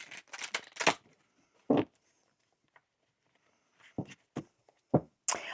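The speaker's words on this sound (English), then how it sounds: "If you notice how your cards are shuffling" Tarot cards are shuffled in short bursts of riffling and snapping, several quick clusters separated by near-silent pauses, close and crisp.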